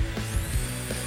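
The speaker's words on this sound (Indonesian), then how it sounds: "Lalu akriliknya kita bor di bagian ujung" A power drill bores into the edge of an acrylic sheet to make a cable hole for a neon flex sign, giving a close, gritty whir with a few uneven pulses and no talk.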